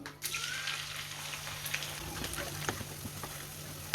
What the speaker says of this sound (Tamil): நல்லா சூடாகிட்டு இப்போ நம்ம இடித்து வச்சுருக்கிற வெங்காயத்தை இதில் சேர்த்துருவோம்